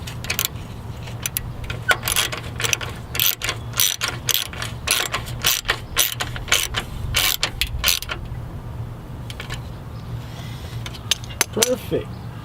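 Rapid ratchet clicking from a hand ratchet tightening a bolt to ground a Hella horn wire on a Mitsubishi Evo X, a close, loud run of clicks in bursts, then quieter handling.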